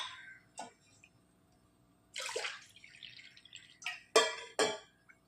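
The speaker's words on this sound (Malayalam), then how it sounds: "ഇനി ഇതിലേക്ക് നമുക്ക് ഈ ഒരു അരി എടുത്ത ഗ്ലാസ്സിന് വെള്ളം ചേർത്ത് കൊടുക്കാം" Water poured into a pot with rice for Kerala-style horse gram kanji, heard as a few short, soft splashing pours with pauses between them, close and quiet, with no talking.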